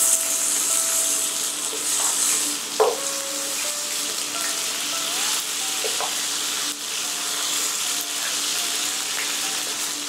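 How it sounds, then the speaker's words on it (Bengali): Fish frying in a pan for Machhli Musallam, a loud continuous sizzle up close with a few light clinks and shifts from the pan. "ভাজবার সময় ভালো করে ভাজবেন যাতে মাছ পুরোপুরি রান্না হয়ে যায়"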